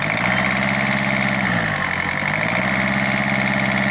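A Ford Figo with an engine racing and pickup fault runs at close range with a steady drone. Its pitch rises and falls slightly as it is revved gently, and no voices are heard.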